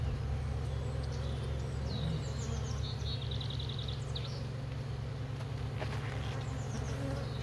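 A honey bee colony buzzing steadily around its hive, a continuous low drone with many overlapping bees close by, plus faint bird chirps in the background.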